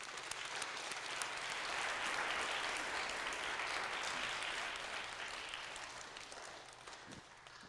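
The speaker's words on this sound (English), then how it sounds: "Let's give all of them applause." Dense, sustained audience applause for spelling bee contestants at a Lutheran school event, loud and full before slowly fading out over several seconds.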